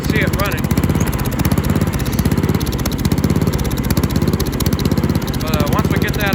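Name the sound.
Murray racing mower engine running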